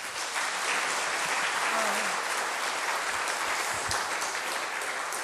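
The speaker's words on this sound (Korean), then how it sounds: "목사님 박수로 환영해서 말씀 듣도록 하겠습니다" A church congregation claps loudly and continuously to welcome the pastor, a dense, even wash of applause with no voices.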